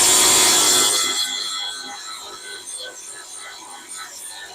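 Grinder cutting at the bonnet catch in the engine bay of a 1972 Aston Martin V8, loud high-pitched grinding for about a second that fades into quieter scraping and rubbing.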